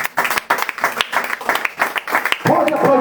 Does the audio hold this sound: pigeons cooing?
no